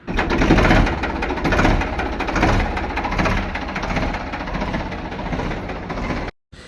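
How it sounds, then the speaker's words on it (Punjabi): A steady, loud mechanical engine drone from an idling Ford 3600 tractor with a rhythmic chugging texture, running continuously nearby before cutting off abruptly near the end. "ਟਰੈਕਟਰ ਦੀ ਤੁਹਾਨੂੰ ਆਵਾਜ਼ ਵੀ ਸੁਣਾ ਦਿੰਨੇ"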